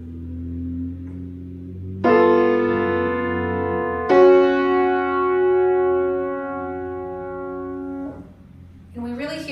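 Piano playing a right-hand motif from an Icelandic art song by Jón Leifs, a tritone moving into a perfect fourth, with a few sustained notes struck seconds apart and left to ring, solo and clear.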